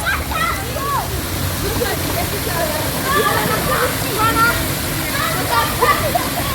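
Steady rushing water spray splashing continuously, with faint bird calls and distant voices mixed in.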